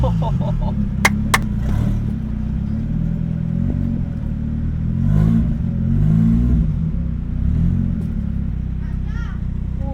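A 1989 Toyota Corolla drives along, its engine giving a loud, steady low rumble that rises slightly in the middle, with a few brief clicks and beeps early on and people talking over it.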